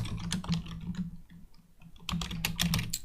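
Typing on a computer keyboard while entering link text for a website ad, with dense bursts of close key clicks, a brief pause in the middle, then a quicker flurry of keystrokes.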